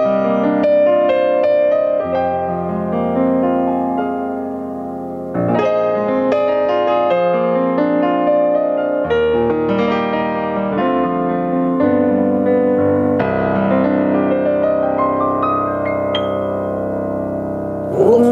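Roland LX-5 upright digital piano on its concert grand voice, a rich solo piece of flowing chords and melody with long sustain and resonance, close and full, no voices.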